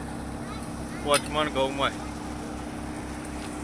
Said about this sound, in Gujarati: મિત્રો ટ્રેક્ટર હવે બંધ કરી અને ટ્રેક્ટર જાય છે ઘરે